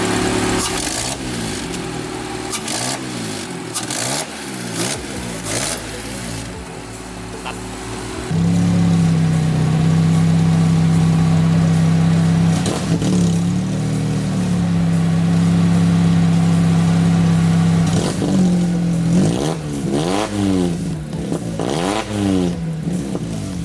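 A Honda Civic EF with a swapped-in K24 engine and a leaking exhaust revs repeatedly, loud and close, rising and falling in bursts with steadier droning holds between them.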